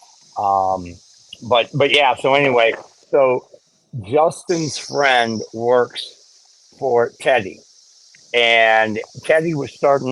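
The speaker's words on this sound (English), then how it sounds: "I just had one of them cicadas attack me." Cicadas buzz outdoors in a steady high drone behind someone talking in conversation, the insect whine running continuously under and between his words.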